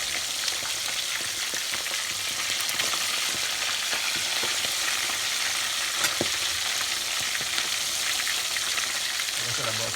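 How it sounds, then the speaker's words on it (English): Salt fish frying in hot oil in a pan, a steady loud broadband sizzle and crackle running continuously, with occasional stirring or shifting sounds and no talk. "you don't want to fry them for too long"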